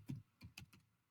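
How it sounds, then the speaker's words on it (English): Several quick clicks of typing on a computer keyboard come in an uneven rhythm, faint and close, with no one speaking. "My typing skills are showing up here."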